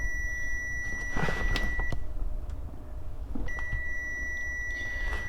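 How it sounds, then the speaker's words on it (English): Two sustained electronic beeps from a Kubota BX2380 tractor's seat sensor, each lasting under a second, separated by a pause, over a low mechanical hum and faint clicks. "Now I'm just going to sit on the tractor seat and we'll see if it beeps"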